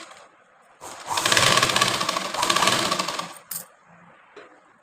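A sewing machine stitches a blouse, running in a steady rapid whirring burst of about two and a half seconds with a brief dip, then stopping with a short click before quiet.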